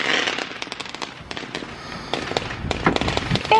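Fourth of July fireworks go off close by in a rapid run of sharp crackling bangs and pops, loud and bursting irregularly, with no one speaking.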